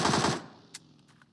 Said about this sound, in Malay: Zaksi melepaskan tembakan pada FFQ yang juga tinggal satu orang player